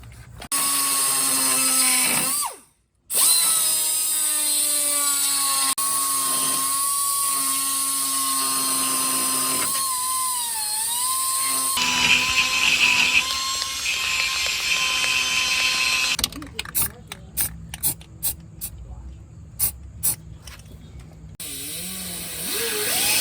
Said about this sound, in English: We're gonna just follow that line with a die grinder here.